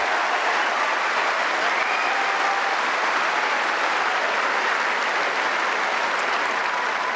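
Steady, dense applause from a large tennis crowd at Wimbledon fills the space evenly, loud and unbroken, with no break in the clapping.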